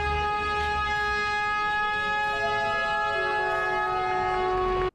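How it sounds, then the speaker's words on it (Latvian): A train horn at a railway station blares loud and steady for about five seconds, its pitch shifting slightly partway through before it cuts off abruptly, heard alone with no talk. "Kad vainags bija piestiprināts, vilciena stacijā sāka skaļi signalizēt."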